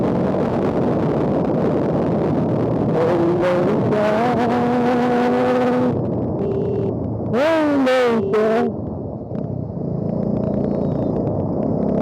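A Bajaj Dominar D400 motorcycle engine heard while riding, a loud continuous rumble with rising and falling rev tones and sharp whining bursts over constant road and wind roar.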